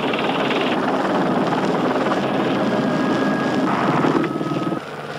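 A small ultralight aircraft engine runs loud and steady, a continuous droning buzz with a rising whine near the end before the pitch drops slightly.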